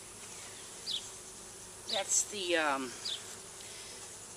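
Honeybees at an opened hive during a mid-week inspection, a steady faint insect hum running throughout with a few brief louder buzzes, under a man's short spoken words.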